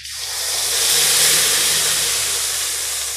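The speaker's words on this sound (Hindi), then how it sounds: "टमाटर वाला अपना मसाला ऐड कर देंगे।" Tomato, garlic and yellow mustard paste hitting a hot pan of crackled mustard seeds in oil, bursting into a loud, steady steam-and-sizzle hiss that holds strong for about three seconds with no voices.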